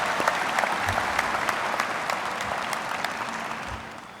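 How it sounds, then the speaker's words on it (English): Audience applause at the North Star High class of 2020 graduation ceremony, dense steady clapping from a large crowd that carries on for several seconds and tapers off slightly toward the end. "Let's give them another round of applause, please."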